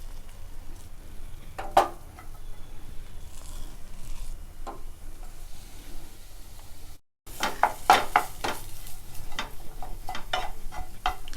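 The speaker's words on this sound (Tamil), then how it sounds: "நல்லா இது உதிரியாக வர்ற வரைக்கும் நம்ம வறுத்துக்கலாம்." Ground lentil paste frying in hot oil for a drumstick-leaf paruppu usili, giving a steady crackling sizzle with scraping stirs and a brief gap partway through.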